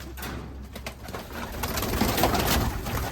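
Two pigeons, of a red-mottled Mykolaiv-type fancy breed, coo softly and close by over a low background hum, with a few murmured calls rising near the end.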